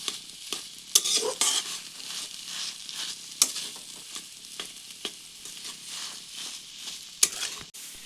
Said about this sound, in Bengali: তো এটিকে ভালো করে মিশিয়ে নিচ্ছি।